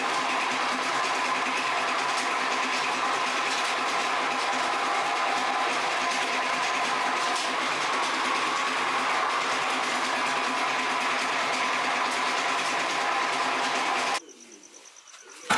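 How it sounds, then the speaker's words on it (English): A corn-grinding mill in West Africa runs in a continuous loud, dense mechanical whir with a steady rhythmic pulse, then cuts off abruptly near the end, leaving quiet background, no talking. "So here the corn is being grinded,"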